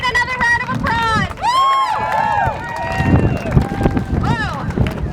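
An outdoor crowd at a rally against fracking cheers and applauds, with loud whoops, shouts and high whistles over a continuous roar of clapping and chatter.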